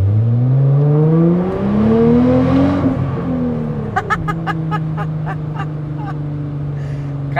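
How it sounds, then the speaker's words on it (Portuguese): A Nissan GT-R Skyline engine revs hard in first gear, pitch sweeping upward loudly before dropping back to a steady idle, followed by a rapid series of sharp clicks or pops. "ele deu uma enchida na primeira marcha"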